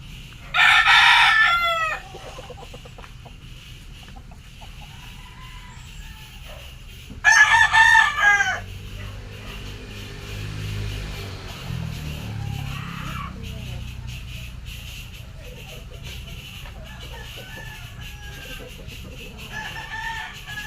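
A lemon-breed gamefowl rooster crows twice, each loud, close call lasting a couple of seconds with a long gap between, over low background noise and faint farmyard sounds.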